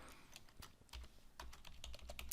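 Typing on a computer keyboard while entering statements of a programming function: a quick, irregular run of light key clicks with a few heavier strokes, close and steady, with no voices.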